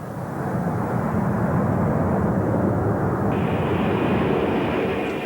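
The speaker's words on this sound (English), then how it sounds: "Another wide-body jet which has done sterling service with Saudi is the Lockheed 1011 TriStar" A Saudi Arabian Airlines Lockheed L-1011 TriStar wide-body jet from the mid-1980s, powered by three Rolls-Royce RB211 engines, gives a loud, steady, continuous jet roar that holds even throughout with no talk over it.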